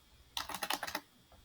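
A burst of quick keystrokes on a computer keyboard while a folder name is typed, about a dozen close, light clicks in under a second, then quiet.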